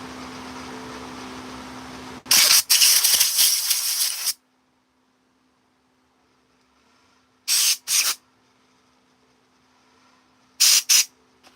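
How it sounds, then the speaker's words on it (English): Compressed air from an air hose blows in loud hissing bursts while cleaning out chainsaw carving gear: a long blast of about two seconds, then two short paired puffs and another quick pair later, over a faint steady hum. "Take the air hose though, clean this out."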